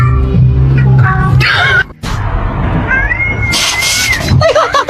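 A cat meows and yowls loudly at close range in several drawn-out, wavering cries, with brief pauses between calls.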